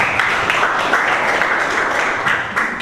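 A group of teachers at an academic coaching session claps for one another, a short, even burst of close applause.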